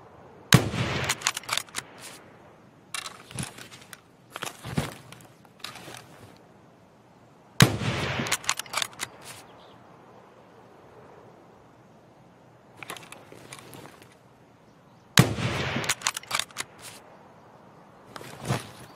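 Sniper rifle shots in the video game Escape from Tarkov: three sharp, loud cracks roughly seven seconds apart, each followed by rolling echo and clusters of smaller game sounds in between, with no voice.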